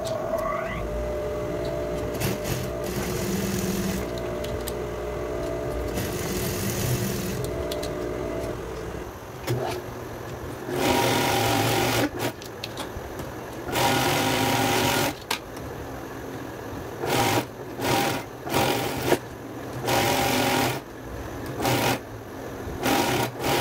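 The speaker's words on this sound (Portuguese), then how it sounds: "E depois já vamos levar no overlock para fazer acabamento nas laterais" An overlock sewing machine finishes the side edges of a child's dress, running in several bursts of rapid stitching separated by pauses and handling noises, fairly close and moderately loud.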